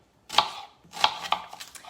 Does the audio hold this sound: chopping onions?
yes